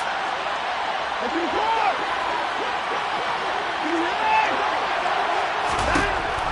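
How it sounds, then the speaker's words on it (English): A stadium crowd at an American football game roars in a constant broad wash of noise, urging on the defense, with a commentator's voice talking over it. "this crowd urging on their defense. They're up and making noise."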